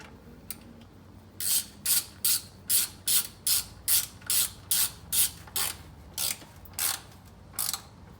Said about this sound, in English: 8 foot-pounds isn't very much. It's like, click.